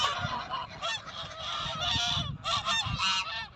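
Geese in a garden honk repeatedly in loud, overlapping calls that run almost without pause, close by.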